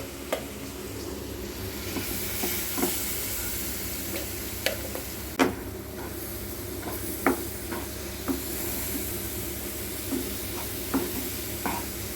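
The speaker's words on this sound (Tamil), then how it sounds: "அதை சொயின்னு சவுண்டு கேட்குது பாருங்கள்" A steady sizzle and hiss of a ground coconut mixture frying in ghee in a pan, with occasional scraping and stirring clicks.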